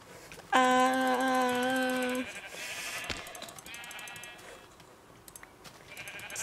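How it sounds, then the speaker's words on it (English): Sheep bleat loudly in Minecraft as they are slaughtered, one long harmonic bleat up close followed by quieter overlapping bleats and the thuds of hits. "I mindlessly killed all the sheep"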